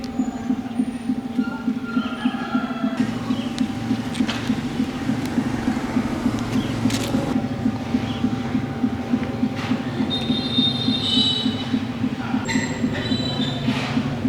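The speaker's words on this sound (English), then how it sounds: "The sound you're hearing is the rhythmic tapping of the wooden fish, accompanied by the chanting of Buddhist monks inside the temple." A wooden fish is struck in a steady, even rhythm inside a Buddhist temple while monks chant in a low, continuous drone. The tapping stays clear and regular over the chanting throughout.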